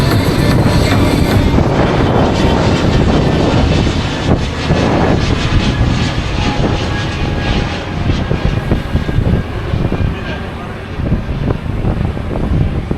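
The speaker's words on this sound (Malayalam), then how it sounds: "വേണ്ട വിമാനം പോകും സുഹൃത്തുക്കളെ" An airplane passes near Thiruvananthapuram airport, a loud broad engine roar mixed with heavy wind buffeting on the microphone, steady throughout while the listener rides along.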